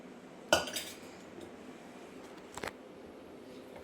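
Mashed dal is added to a pot of drumstick sambar, and metal utensils clink against the pot: one sharp clink, then a softer pair of taps a couple of seconds later over a quiet kitchen background.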